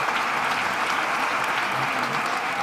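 Steady applause from a large indoor theatre audience at the Gran Teatro Falla during a chirigota semifinal, dense and continuous throughout with no pauses.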